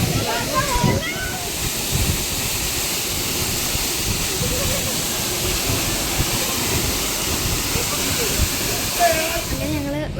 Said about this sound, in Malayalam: അതാണ് വെള്ളച്ചാട്ടം. ഭയങ്കര രസമാണ് കാണാൻ.